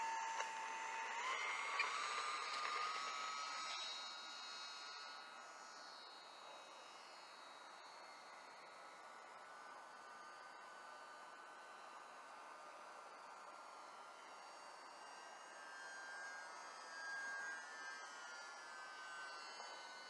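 A small airplane takes off with quarter flaps set, its engine a steady droning whine that rises early on and holds at moderate volume with no talk.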